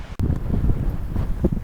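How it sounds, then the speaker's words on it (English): Strong wind buffets the microphone on a cliff-top path near Arbroath, a loud low rumble in gusts that lasts the whole short stretch after a brief dip at the start. "The wind's got a bit strong."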